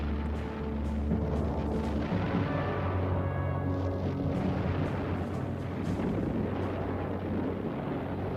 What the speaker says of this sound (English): they erupted in fury, pulverizing the coast in response to distant enemy artillery and machine gun fire